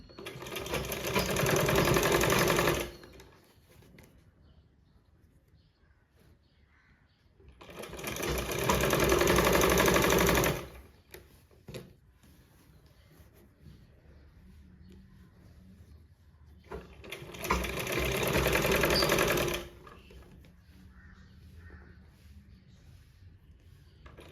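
A sewing machine stitches a blouse neck cross piece in three separate bursts of fast, steady mechanical whirring, each lasting a few seconds, with quiet handling noises in the pauses between.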